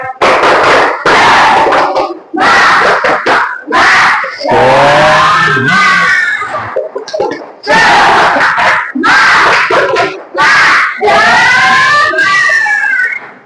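A classroom full of children shouts a loud rhythmic chant in unison, broken by bursts of clapping, several rounds in a row.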